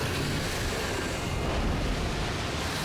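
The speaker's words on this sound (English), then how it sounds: "Heavy cannon, open fire." Heavy cannon fire from an armed ship in the animated show RWBY comes as a loud, dense, sustained roar of blasts and rumble, with no voices over it.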